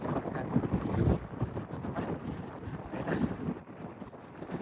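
Gusty cold mountain wind on the trail to Tsho Rolpa Lake buffets the microphone in a steady roar with rumbling low-end surges, loudest early on, continuing throughout without pause.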